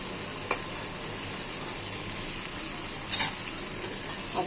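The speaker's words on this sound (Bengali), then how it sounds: "এটা এখন ভেজে নিব।" Meat pieces fry in a pan, a steady close sizzle that holds throughout, broken by a couple of brief clinks of a utensil, with no talk.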